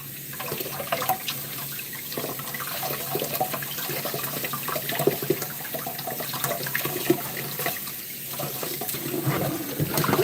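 Running tap water pours over sorrel being washed for a Jamaican sorrel drink, a steady close splashing and trickling with small knocks and clinks and no talking.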